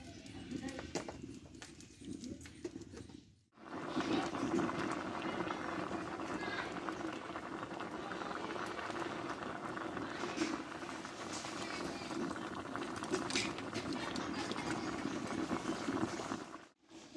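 Potatoes and cauliflower boil in salted water tinted with turmeric, a steady close bubbling and rolling simmer that runs unbroken apart from a brief drop near the start.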